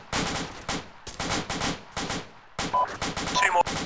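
Rapid, loud bursts of gunfire in an engagement against prone and crawling targets, with repeated irregular shots and volleys in quick succession, some radio chatter between them.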